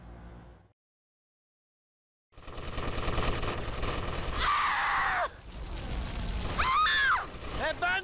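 Bursts of gunfire from GTA Vice City Stories on PS2, loud and dense, running under game music and effects after a brief silence at the start.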